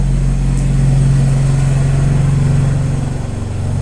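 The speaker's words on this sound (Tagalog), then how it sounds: "Yan mga idol, narinig nyo, mga motor na naman." Loud, continuous low engine rumble of motorcycles going by nearby, a steady droning hum that barely changes throughout.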